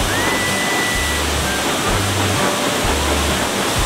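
Steady, loud rush of water spraying over a KTM 250 EXC enduro motorcycle during a rinse after soap washing, continuous and close with no talking.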